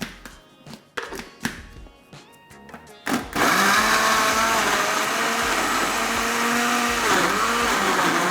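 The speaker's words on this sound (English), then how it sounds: "I'll set it aside and then I'll blend my peppers." A few hard knocks and thuds from a kitchen blender being loaded, then the motor roars to a loud, steady whir that blends peppers for a kale vegetable stew, close and continuous with a dip in pitch near the end.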